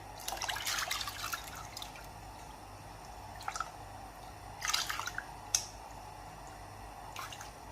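Wet splashes and plops as soaked split chickpeas (chana dal) are dropped into a pot of boiling water, in a few brief bursts over a low steady hum.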